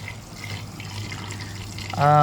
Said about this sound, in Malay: Okay, so jom kita on filter.